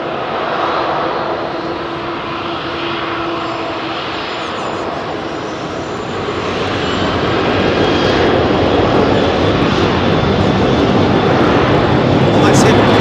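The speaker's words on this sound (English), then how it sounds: "CFM 56 powered 737" A CFM56-powered Boeing 737 flying for BA departs London Heathrow runway 27R, its broadband jet roar loud and steady, swelling further in the last seconds, with people talking nearby over the engine noise.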